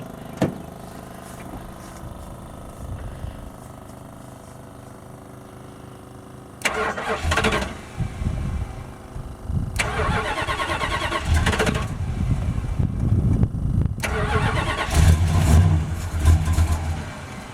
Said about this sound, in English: So we got it idling and warming up.